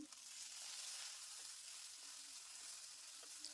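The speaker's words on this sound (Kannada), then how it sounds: "ಕರಿಬೇವು ಬ್ಯಾಡ್ಗೆ ಮೆಣಸಿನ್ಕಾಯಿ ಹಾಕಿ ಸ್ವಲ್ಪ ಹುರಿದ್ಕೊಳ್ಳೋಣ ಇವನ್ನ" Curry leaves and Byadgi chillies roast in a pan for vangibath spice powder, making a soft, even, airy sizzle with a few faint scrapes of stirring, quiet and steady throughout with no voices.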